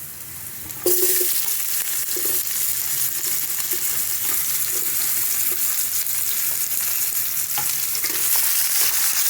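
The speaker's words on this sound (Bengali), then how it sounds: "এখন দেবো এই পেঁয়াজ কুচানোগুলো" Chopped onions frying in a pan for white chicken, going into hot oil after whole garlic: a steady loud sizzle begins suddenly and continues, with occasional stirring clicks and no voices.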